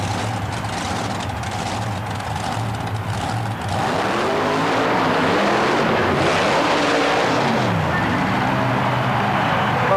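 The Micro Machine Chevrolet monster truck pulls off the starting line at a Worcester, Massachusetts arena show with a loud, sustained engine roar that surges and swells as it accelerates, constant and close throughout.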